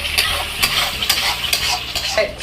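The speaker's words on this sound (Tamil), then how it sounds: "விடாமல் கிண்டிகிட்டே இருக்கணும்" Banana halwa made with beetroot, milk, sugar, cardamom and ghee is stirred steadily in a pan, giving repeated close scraping strokes over a soft, thick sizzle.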